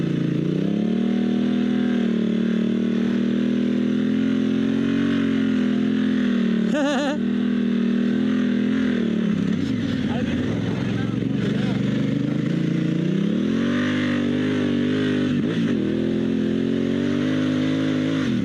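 A dual sport motorcycle on big block dual sport tires rides through deep, powdery sand, its engine droning close and continuous with rising and falling revs as it labors.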